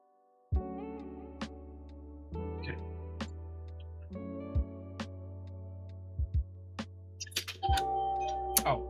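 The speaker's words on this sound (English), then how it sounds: "Oh, that's the doorbell." Doorbell chimes sound indoors: several sustained electronic tones start and restart at intervals, with clicks and thumps between them, close and fairly clear, with no talk.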